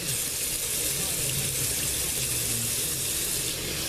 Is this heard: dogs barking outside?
no